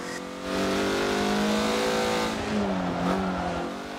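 A race car in the Forza racing game accelerates hard, its engine note rising and sweeping through the gears as it revs up, loud and close with a possible brief tire squeal, no voices over it.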